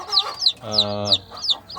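Several day-old chickens peep in sharp, high chirps repeated in quick succession, close by, with a low humming voice briefly underneath.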